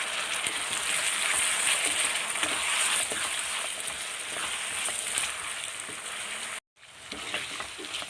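Tomatoes frying with onions in a pan for a brinjal kara kulambu, a dense steady sizzle and crackle that runs almost unbroken, with a brief gap near the end before the frying resumes.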